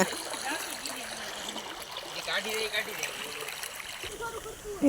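Rushing floodwater flows and splashes continuously nearby while people talk over it.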